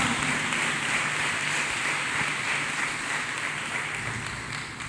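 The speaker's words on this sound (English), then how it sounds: "Let us clap hands for Jesus Christ" A church congregation claps hands together, a dense, continuous wash of applause that holds steady and slowly fades toward the end.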